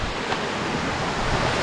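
A waterfall pours down a rocky mountainside with a steady, close roar of rushing water that never lets up.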